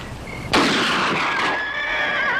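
A horse in a Western film gives a loud, sudden whinny that starts sharply and trails off in wavering tones, heard on its own with no speech.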